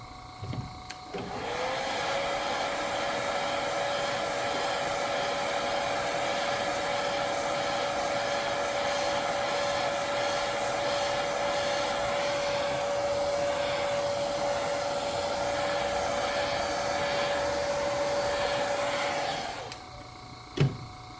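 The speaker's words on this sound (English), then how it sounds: "Now you do want to make sure that you dry your stencil off." A hair dryer blows steadily on an airbrush stencil, a loud, even whir that runs for about eighteen seconds with no talking, then cuts off.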